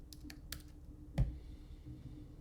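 Soft, faint key clicks from a computer keyboard while a login is typed, a handful of quick taps spaced irregularly in a quiet room.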